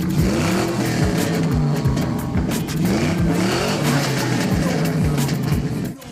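The 1997 Vortec V8 engine of a 1962 Impala lowrider revs loudly and repeatedly up close, its rumbling pitch climbing and dropping in a rough, continuous roar.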